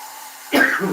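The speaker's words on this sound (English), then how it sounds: "Still got a cough." One short, harsh cough bursts out over a steady low background hum, followed by a brief rough throat sound.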